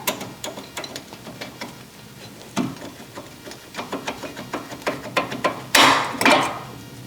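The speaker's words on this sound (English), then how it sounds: "We're just going to pry these out." A flathead screwdriver pries worn brake pads out of a car's caliper, giving sharp metallic clicks and scrapes in an irregular run, close by, ending with a louder clattering rattle near the end.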